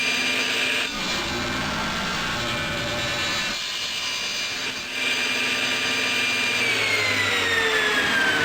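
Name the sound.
saw cutting mitered salvaged wood for picture frame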